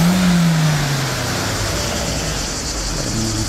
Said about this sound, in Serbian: Autobus neki.